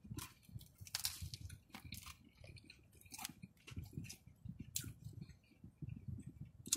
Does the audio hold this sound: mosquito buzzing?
no